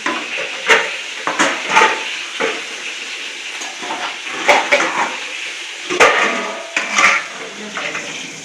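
Fish frying in a pan for a Bengali fish curry, an uneven sizzle broken by repeated sharp clatters and scrapes as pieces are lifted out.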